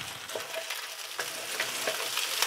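Chopped onion and lightly browned finely chopped garlic fry in a pan for pineapple fried rice, a soft steady sizzle with scattered small crackles and pops, close and fairly quiet.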